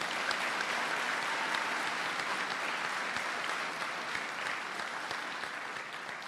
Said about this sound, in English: give him a loud round of applause